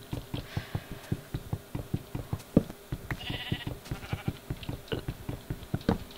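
In Minecraft, sheep bleat over and over in a fast, regular stream of short calls that sound close. Fainter game sounds come in now and then underneath.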